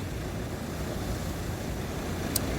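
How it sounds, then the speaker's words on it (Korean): Ocean waves breaking on a shore at night: a continuous low broadband wash and rumble with wind noise, steady throughout, with one brief high click near the end. "오, 밤에 파도가 말이죠"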